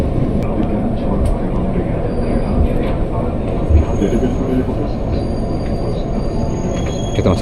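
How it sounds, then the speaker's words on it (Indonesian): An eight-car KRL electric commuter train near Universitas Indonesia station in Indonesia rumbles through nearby with a dense, steady roar of wheels on track, a faint squeal now and then. "Nah, KRL 8 kereta lagi tuh."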